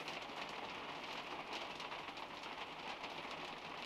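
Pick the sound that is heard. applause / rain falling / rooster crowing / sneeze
rain falling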